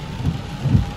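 Heavy rain and gusting wind in an April thunderstorm: a dense, close wash of downpour noise with two swelling low rumbles, no voices.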